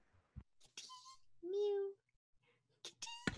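A house cat lets out one clear, drawn-out meow close to the microphone, set between quiet stretches and bits of conversation.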